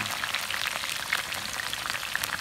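Crickets fry in hot oil until crispy, a steady close crackling sizzle with dense popping bubbles and no talk.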